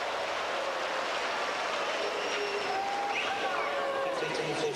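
A tennis crowd roars in a continuous, dense wall of noise at Ivanisevic during a match, with whistles and cries rising faintly above the steady din.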